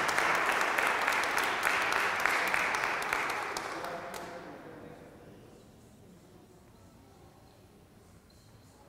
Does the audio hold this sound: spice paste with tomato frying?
no